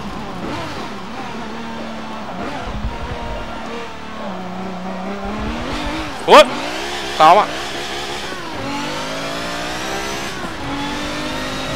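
A GT race car engine revs and climbs toward the redline in Forza Motorsport 7, rising and falling loudly with gear shifts and a couple of sharp bursts midway, while someone talks over it.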